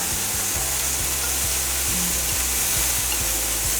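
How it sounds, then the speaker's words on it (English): Scallops searing in a hot pan give a loud, dense, unbroken sizzle with faint low knocks ticking beneath it, no voices heard. "when these get a nice little color on them, you gotta flip them over, get the nice sear on them"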